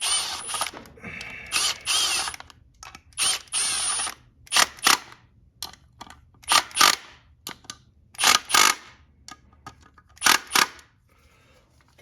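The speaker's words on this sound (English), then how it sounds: "You torque them to good and tight." Repeated ratchet clicks come in short bursts close to the mic while bolts are torqued tight during an XR650R stator install, with brief quiet pauses between strokes.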